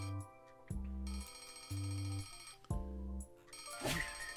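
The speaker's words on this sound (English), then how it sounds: "The familiar noise of Henry's alarm clock announces the dawn of a new day." An alarm clock in a video game trailer rings in loud repeated bursts of a bright metallic bell, with pulses roughly every second that end in a clattering rattle.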